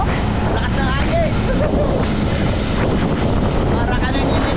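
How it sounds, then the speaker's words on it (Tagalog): Strong wind buffets a mountainside facing the sea during Typhoon Carina, a loud continuous roar with heavy gusting rumble and no letup. "Dito lakas ng hangin kasi nasa bundok, harap ng dagat."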